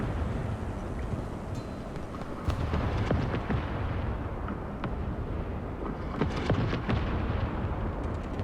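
An M13 Multiple Gun Motor Carriage anti-aircraft vehicle emptying its ammunition in War Thunder, with rapid bursts of heavy machine-gun fire cracking close and loud over a steady engine rumble.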